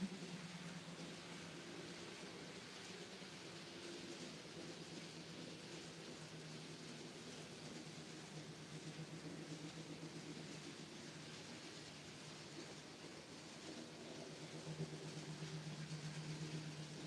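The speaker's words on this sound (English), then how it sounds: "Just driving an HST on Train Simulator." A low, steady diesel engine drone of an HST high-speed train in Train Simulator hums continuously under a hiss of noise, quiet and even throughout, with no voices.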